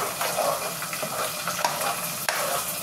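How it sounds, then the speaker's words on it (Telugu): A ladle mashes and stirs cooked dal with salt in a cooker, giving wet, squelching scrapes and soft knocks against the metal pot in a brief, close, continuous stretch. "తగినంత ఉప్పేసి బాగా గంటతోనే ఎనిపేద్దాము"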